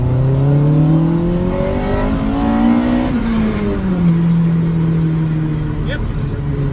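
A Mini car engine revs hard while accelerating in second gear, a loud steady drone climbing in pitch, briefly dipping at a shift point, then holding strong close to the microphone.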